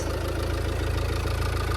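A 2015 Fiat Freemont 2.0 diesel engine idles steadily with a low, rhythmic diesel rumble, continuous and close, with no voices.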